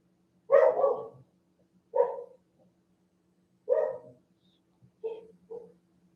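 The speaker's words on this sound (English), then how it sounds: "There's different types of barking that the dogs do" Dogs barking in Portugal: five barks in separate bursts, clear and fairly close, with quiet pauses between them and a faint steady hum underneath.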